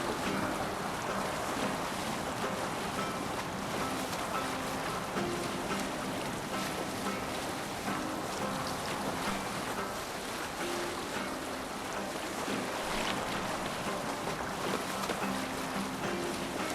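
A Viking longship rows across open sea in Assassin's Creed Valhalla, with steady wash of waves and hull water, wind gusting over the mic, and a continuous rushing texture with no pauses.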